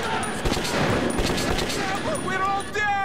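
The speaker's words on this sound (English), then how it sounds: "I'm shooting them." Gunfire from the video game Metro 2033: rapid bursts of shots crackle over a busy in-game soundscape, with sharp reports repeating through the stretch and tonal effects near the end.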